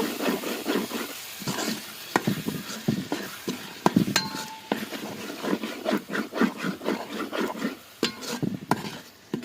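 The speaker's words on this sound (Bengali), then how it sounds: "এই যে আমি টমেটো কুচিগুলো দিয়ে দিচ্ছি এখন এগুলো একটু কষিয়ে নিব" Chopped tomatoes are stir-fried in a pan, with a gentle sizzle under repeated scraping and clacking strokes of a utensil against the pan, plus a brief metallic ring midway.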